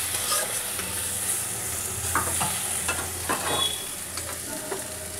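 Yogurt and gram flour batter for kori pakora poured into a hot pan, giving a steady, close-up sizzle with light stirring and occasional clinks throughout, no talking.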